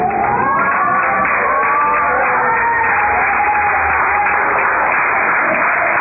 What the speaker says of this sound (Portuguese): Pode assentar, bater palmas agora a Jesus.